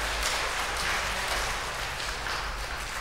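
An audience claps in a Catholic church during an award presentation, a broad, even wash of applause sustained for several seconds without a break.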